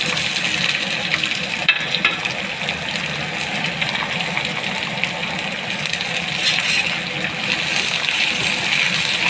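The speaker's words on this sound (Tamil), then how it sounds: "சேர்த்து பொன்னிறமாக வறுக்க வேண்டும்." Chopped onion and carrot fry in a pan for rava upma, giving a steady, close sizzle that holds evenly throughout with no talking.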